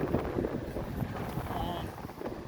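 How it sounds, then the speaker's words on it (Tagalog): Strong gusty wind in Hong Kong buffets the microphone with a low, rumbling roar, and a voice murmurs faintly beneath it. "Sobrang lakas ng hangin."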